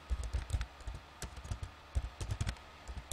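Quick bursts of keystrokes on a computer keyboard, close and fairly quiet, with uneven clusters of clicks and short pauses between them and no voices.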